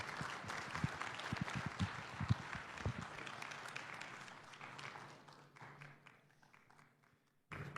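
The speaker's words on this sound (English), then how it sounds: "Let's give a round of applause, please, for Jim Myers." Audience applause for a presenter at a Starworks 2021 event in Laughlin, Nevada: dense clapping with sharp claps up front, easing off and thinning to scattered claps before a brief return at the end.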